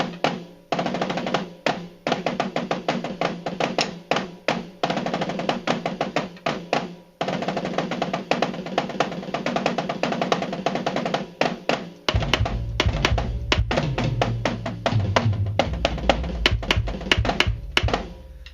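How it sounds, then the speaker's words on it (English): Pearl maple-shell piccolo snare sample triggered through EZDrummer from a drum machine, struck in fast, busy rhythmic patterns with crisp repeated hits, joined later by a deeper, fuller low-end part underneath; no talking. "if I want a Pearl piccolo snare, which I'm a big fan of Pearl drums and the maple shells they use, I can dial up piccolo snare"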